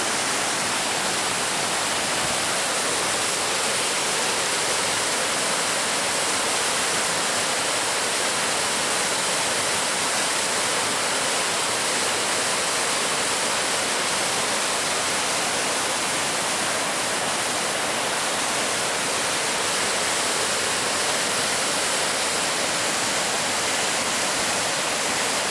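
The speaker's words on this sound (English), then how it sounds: "Okay, we're at Buttermilk Falls." A waterfall with ice at Buttermilk Falls roars in a steady, dense rush of falling water, loud and unbroken throughout with no voices.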